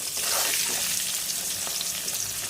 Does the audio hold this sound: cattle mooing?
no